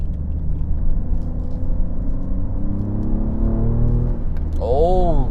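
Sports car engine and exhaust with electronic valves open, a steady low rumble with harmonic tones rising as revs climb, loud and close, ending in a brief sharp rev.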